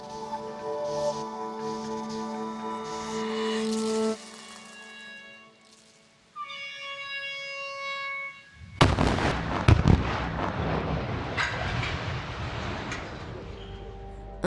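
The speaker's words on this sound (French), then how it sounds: "le barrage existant a été démoli grâce à un programme de plusieurs tirs de mines" Mine blasts demolish an old unreinforced concrete dam at Charmines in a series of staged demolition shots. After sustained tonal machinery noise, a loud broadband blast erupts and rumbles on for several seconds.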